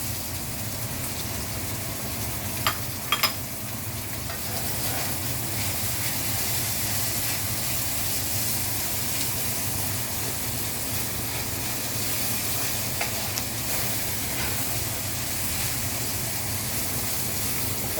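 Onions caramelizing in a pan over lowered heat give off a steady, broad sizzling hiss that continues evenly throughout, with a few faint clicks and nothing else.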